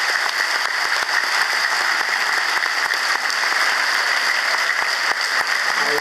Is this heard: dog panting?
no